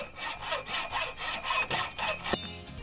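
A hacksaw cuts through a metal spreader bar of an adjustable walk gate in a steady back-and-forth rhythm, about eight rasping strokes up close, ending with a sharp clink.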